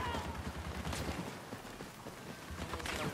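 Covering gunfire in a Battlefront II battle comes as a dense, continuous rattle of rapid shots and bursts at moderate loudness, with a voice speaking over it.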